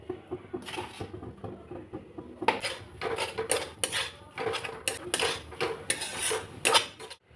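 Grated coconut and date jaggery filling stirred in a pan, with repeated scraping clatters of a spoon against the metal that come in quick bursts, close and fairly loud, after a quieter start.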